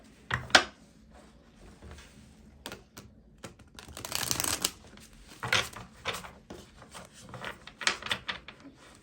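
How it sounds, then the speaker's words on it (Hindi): Tarot cards drawn from a deck, heard as soft, close, intermittent shuffles and slides with several brief rustling bursts between quiet gaps. "मैं इस डेक से भी कुछ कार्ड्स निकालूंगी। 4 कार्ड्स यहाँ से भी निकालूंगी मैं।"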